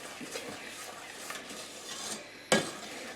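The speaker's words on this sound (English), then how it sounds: "stir over medium heat till it comes to a rolling boil" Fudge mixture stirred in a pot over medium heat: a spoon scrapes and swishes in repeated strokes, close up, ending with a sharp clank against the pot.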